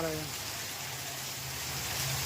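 Steady rain hisses evenly throughout, with a brief voice audible at the very start.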